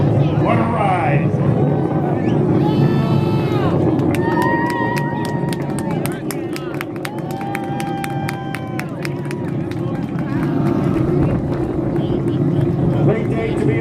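Space shuttle engines at launch give a continuous, deep, broad roar that holds steady for the whole stretch, heard from a distance. Scattered voices and higher tones from onlookers sit on top of it.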